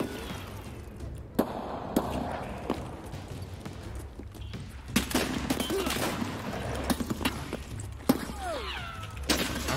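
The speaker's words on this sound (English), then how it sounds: "Getting sniped in the back." Sniper rifle shots in the shooter Escape from Tarkov, several sharp, loud cracks spaced irregularly over busy game ambience and muffled movement, with brief voice-like sounds mixed in.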